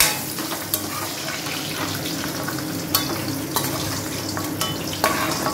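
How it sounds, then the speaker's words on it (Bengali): Raisins frying in hot oil in a pan give a steady, close hiss and crackle, broken by a few sharp clinks from a stirring spoon, with no talking. "কিশমিশটা ভাজা হোক"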